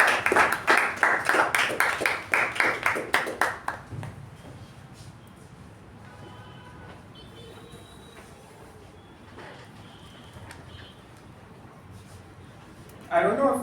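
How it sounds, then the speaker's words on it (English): A meeting audience gives a short round of applause, loud clapping for about four seconds, then fades into quiet room tone with faint murmurs before another burst at the very end. "I would like you guys to give a huge round of applause to Toastmaster Madhusudan"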